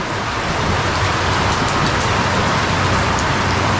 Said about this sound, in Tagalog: lakas ng ulan, parang bagyo yun